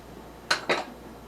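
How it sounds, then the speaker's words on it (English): A spoon scraping and clinking twice against a mixing bowl while flour and unsweetened baking cocoa are stirred together, two quick close strokes with quiet between them. "That's the unsweetened baking cocoa, and I'm just going to stir that together."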